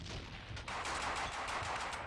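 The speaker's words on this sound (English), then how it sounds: "that was a really good explosion" A burst of explosion and gunfire in the Max Payne 2 video game, a dense and steady roar of crackling blasts lasting about two seconds at moderate level with no voices.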